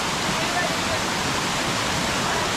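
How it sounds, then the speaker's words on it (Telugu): Mini Kalluru waterfall, water rushing as a steady, dense broadband roar that fills the short stretch evenly from start to finish, close and continuous with no voices. "ఇది వచ్చేసి Kalluru water falls, mini Kalluru అంట ఇది"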